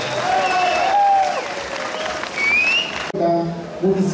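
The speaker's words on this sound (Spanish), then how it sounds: "Fuerte los aplausos." Crowd applause at a December calenda festival parade in Tlahuitoltepec, a loud sustained clapping from many people outdoors, with whistles and cheers rising over it and a brief dip before it swells again.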